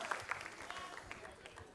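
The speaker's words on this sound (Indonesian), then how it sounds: "kasih tepuk tangan dong" An audience claps for a singer at a music event, a brief burst of dense, crackling handclaps of steady loudness with no voices over it.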